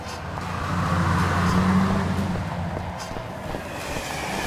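Cars drive past on a street in the Sam & Max adventure game, a loud broad rumble that swells to a peak mid-way and then eases off, with no talk over it.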